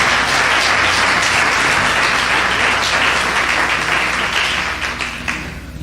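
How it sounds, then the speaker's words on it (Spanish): A church congregation applauds loudly and steadily in a hall, dense clapping from many hands that holds strong for several seconds before tapering slightly at the end. "Dale un fuerte aplauso al Rey, que Él vive."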